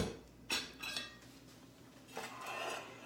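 An old pie plate being handled while a holiday squash pie is made, producing a few soft clinks and knocks of dishware against a hard surface, faint and spread out over a low background hum.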